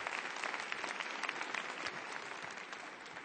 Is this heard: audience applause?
yes